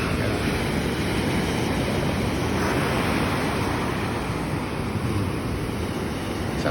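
Ocean surf breaks on a sandy beach in a steady, loud, continuous roar with wind buffeting the microphone and no distinct individual wave crashes.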